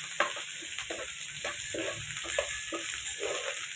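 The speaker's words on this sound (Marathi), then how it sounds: "चांगला परतून घेऊ आपण" Plenty of onion fries in oil, stirred with a spoon in a rhythmic series of scraping strokes over a constant sizzle, close and fairly quiet, without speech.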